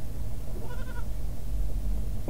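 A goat bleats once in a short wavering call partway through, with a brief second sound at the end, over a steady low background rumble.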